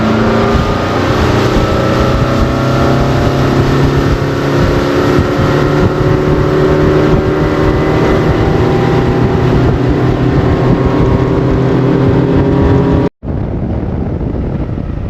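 A fishing boat's outboard motor runs at speed during a crappie tournament, a loud steady drone with heavy wind buffeting that cuts off abruptly near the end before resuming more quietly.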